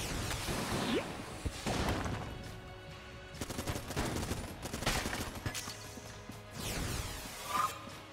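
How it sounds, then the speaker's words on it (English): Rapid gunfire from the game Enter the Gungeon, with dense bursts of shots, crashes and whooshes layered over steady game sound for several seconds. No one speaks. "it definitely feels like we're shooting very quickly right now"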